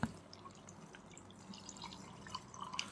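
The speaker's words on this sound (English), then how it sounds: "pour milk." Milk is poured into a blender jar already holding chopped chocolate bars and wafers for a milkshake, giving a quiet, close trickle with small splashing drips and glugs throughout.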